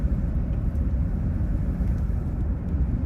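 Steady low rumble of a truck driving along the Cherohala Skyway, a continuous in-cab road and engine drone with no speech.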